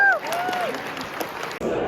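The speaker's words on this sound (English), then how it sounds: "Give him a round of applause." Audience applause at a storm chaser summit hall of fame event, steady clapping with some cheering and a whistle-like tone early on, voices mixed in, a brief break near the end before clapping resumes.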